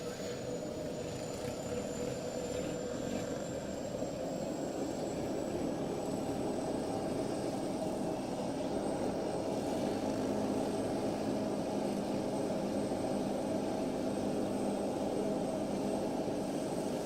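Land speed race car number 912 makes its run on the Bonneville salt flats at the 2024 World Finals, a steady, loud engine roar that holds for the whole stretch with a thin high whine riding above it.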